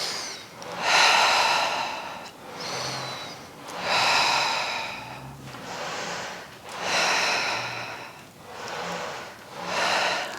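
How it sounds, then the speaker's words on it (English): Slow, deep breaths during a Pilates reformer workout: about four long inhale–exhale cycles, each a loud breathy rush separated by brief pauses, close to the microphone with no speech. "Inhale and exhale."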